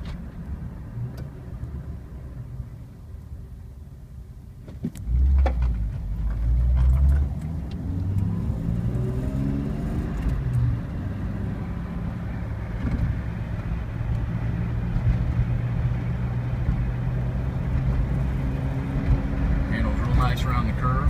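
A 1997 Jeep Wrangler Sahara cruises at about 30 mph just under 2,000 RPM, its steady engine drone and road rumble continuous and close, with someone talking over it throughout.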